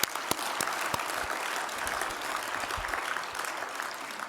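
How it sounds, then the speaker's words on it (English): Big round of applause for speakers at a physics society symposium: a few sharp early claps, then sustained, even clapping from a large crowd, fairly close and continuous. "let's give another big round of applause"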